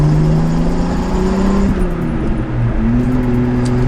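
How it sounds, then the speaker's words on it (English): A Datsun 280Z with a straight-pipe exhaust and resonator drives along with a loud, continuous engine drone whose pitch rises and dips through gear and throttle changes, heard close from on board. "A lot quieter than a straight pipe out the back"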